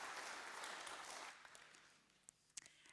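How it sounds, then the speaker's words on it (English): An audience at a Rotary event applauding, a soft dense patter of clapping that fades out after a second or so, leaving a few scattered faint knocks. "So with a fantastic round of applause, may I introduce you to Amy Meek of Kids Against Plastic."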